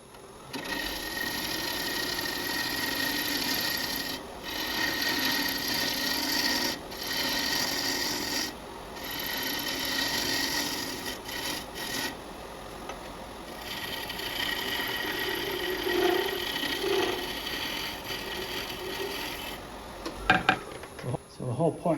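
A woodturning hollowing tool cuts into a cracked timber hollow form on a spinning lathe. A steady, rasping, buzzing cut runs continuously with brief pauses and a couple of sharp knocks near the end.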